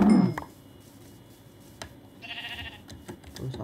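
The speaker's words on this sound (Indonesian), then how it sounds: "Ada domba lagi?" Sheep in the video game Minecraft give a short bleat near the start, followed by softer game ambience and a brief chime-like tone later, with no talking.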